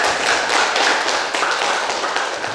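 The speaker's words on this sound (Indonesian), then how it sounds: "Tepuk tangan untuk kita." A classroom of students claps together in a dense, continuous patter that stays fairly loud and steady throughout the short burst.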